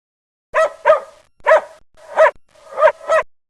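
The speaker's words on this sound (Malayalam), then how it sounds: "ഒരു നായ അതാ നമ്മുടെ നേരെ പാഞ്ഞു വരുന്നു" A cartoon dog barks six times in loose pairs, sharp and fairly close, with short silences between the barks and no other sounds.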